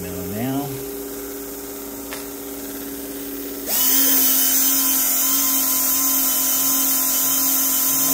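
A Dodge Viper on a chassis dynamometer sets up a steady, whining drone, then partway through surges into a much louder, sustained roar that holds to the end.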